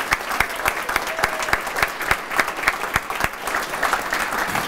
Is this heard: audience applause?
yes